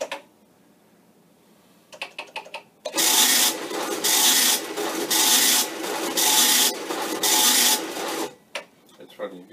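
Vintage Commodore PET tractor feed printer prints in loud bursts of rasping, buzzing head strokes, several rhythmic passes with short pauses, preceded by faint clicks and quiet room noise.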